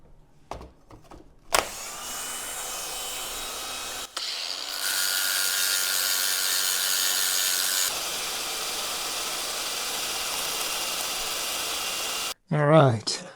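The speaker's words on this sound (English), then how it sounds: "let me throw this in my lathe and we'll clean these threads up" Lathe cleaning up the threads on a brake pushrod for a Dodge Dakota manual brake conversion: the machine starts up and runs with a steady whirring hum and grinding scrape, stopping abruptly, with brief clunks around it.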